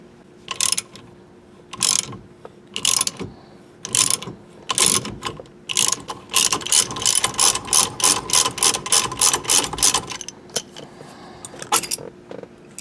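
Ratchet wrench tightening a universal puller on a 1973 GM Firebird/Camaro steering column, with repeated clicking strokes, short groups first, then a rapid steady run before stopping.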